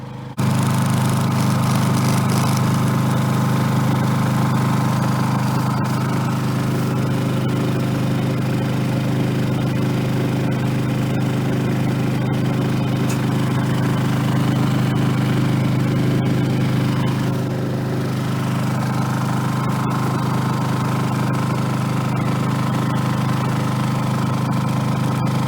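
A portable generator at a campsite runs steadily throughout, a constant close engine drone with no talking over it.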